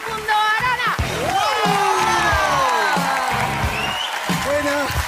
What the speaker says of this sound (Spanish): Fuerte ese aplauso para recibir a mi querido amigo Facundo Arana